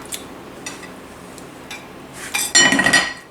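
A lid is set back onto a cooking pot used like a bain-marie for old-style kaya, giving a loud metallic clatter and ringing clink near the end after quieter faint clinks.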